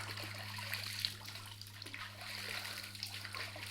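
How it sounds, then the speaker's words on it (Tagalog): River current flowing steadily with a broad, continuous watery wash and light trickling detail, heard close and alone over a low steady hum. "Ito na ang agos."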